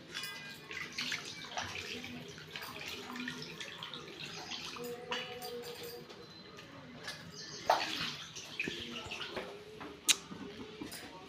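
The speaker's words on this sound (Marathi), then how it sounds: "आपल्याला आता झिंगे धुवून घ्यायच्यात" Fresh prawns are rinsed under a running tap, a steady hiss of flowing water with light splashing and a few sharper clinks and drips near the end.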